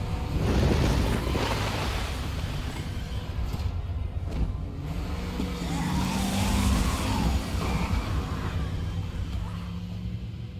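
A car drives in the video game Resident Evil 2, with a steady engine roar and tire noise that surges and skids, and voices faintly audible underneath.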